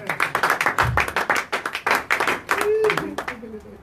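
A church congregation claps in quick rhythmic bursts, sharp and close, while a preacher's voice speaks over the clapping.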